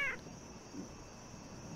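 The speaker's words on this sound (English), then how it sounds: "You see a cat sitting on the railing at the top of the stairs." A cat in a survival horror video game gives a short, high meow right at the start, followed by quiet game ambience with no speech.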